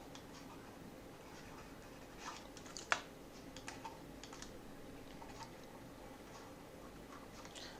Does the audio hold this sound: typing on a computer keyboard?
yes